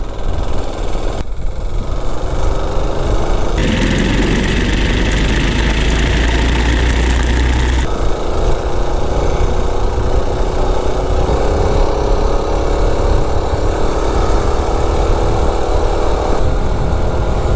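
A gas mini bike engine running on diesel fuel idles steadily and loudly close by, a continuous rough putter that briefly swells and changes tone partway through before settling back.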